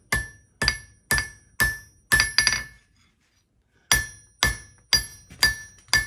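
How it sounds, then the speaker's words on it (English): Big leaf hammer striking hot steel while forging a horse head: sharp, ringing metallic blows in an even rhythm, a pause of about a second, then another run of strikes, close and clear. "Now we're going to use this big leaf hammer and bring down the jaw"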